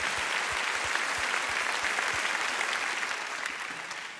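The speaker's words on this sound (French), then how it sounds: "Vraiment, on peut encore l'applaudir" Audience at a televised French talent competition semi-final applauds a young performer with steady, dense clapping throughout, loud and close, easing slightly toward the end with no talk over it.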